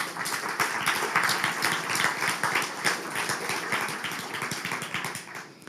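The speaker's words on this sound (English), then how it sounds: "An applause for you." Audience applause at a climate hackathon awards ceremony in Bratislava, steady dense clapping lasting several seconds at fairly close range, fading slightly toward the end, with no talk over it.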